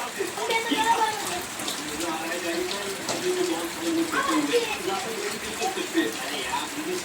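Steady rain falls outdoors while two brothers play with a ball, giving a continuous soft hiss and patter with faint voices underneath.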